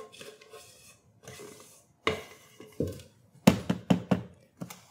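A spatula scrapes thick gluten-free angel food cake batter out of a mixing bowl, giving a run of close, sharp scrapes and clacks that quicken into several firm strokes near the end, with no talking.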